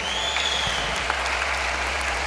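An audience at a Yakshagana performance event claps steadily for a recited poem, an even wash of applause with a faint tone ringing underneath.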